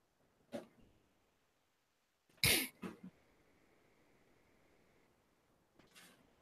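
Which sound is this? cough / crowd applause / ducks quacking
cough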